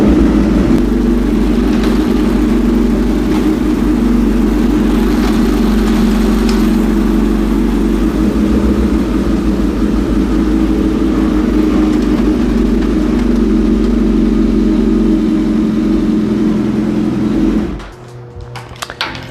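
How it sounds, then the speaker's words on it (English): A Suzuki GSX-S1000 motorcycle engine idles steadily with a deep, even rumble close by, then cuts out near the end, leaving quiet. "I'm just going to turn on the bike right now"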